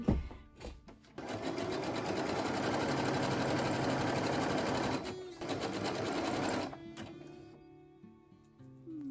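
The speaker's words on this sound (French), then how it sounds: "Je vais quand même raccourcir le point zigzag." A sewing machine runs a zigzag stitch along a sleeveless sweater in long steady bursts of rapid mechanical whirring. The first run lasts several seconds, a short pause follows, a second run comes, and it ends in quiet handling noises.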